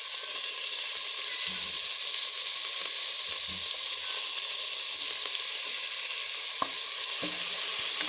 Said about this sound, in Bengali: মুগ ডালটা একটু ভাজা ভাজা করে নিচ্ছি